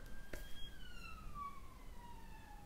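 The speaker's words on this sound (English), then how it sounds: "Can you guys hear those sirens?" Emergency vehicle sirens passing outside, a steady wailing tone sliding slowly downward in pitch as it recedes, heard at a distance and fairly faint against background hiss.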